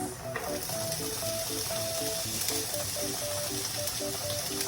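Onions drop into a hot pan and give a steady, close sizzle that holds at an even level throughout, with a melodic tune playing in the background.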